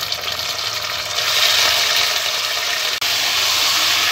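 Meat dropped into a pan of hot oil with fried onions and garam masala for urad dal gosht gives a loud, steady sizzle and hiss. It swells after about a second and stays strong, broken by a brief dip near three seconds, with no talk.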